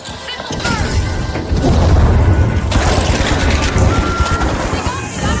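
Missile burst explosions boom in the shooter game The Finals, a loud, continuous wash of blasts and rumbling chaos running through the whole span, with a surge of low booming near the middle.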